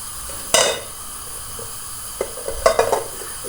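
Carrot murabba with sugar being stirred in a pan over low heat, a soft steady sizzle with a few sharp scraping and clinking strokes of the spoon against the metal.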